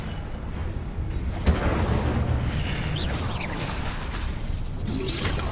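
A fire spell cast in the video game Hogwarts Legacy: one sharp burst, then a loud, steady roaring rush of flame with scattered whooshes, close and continuous to the end.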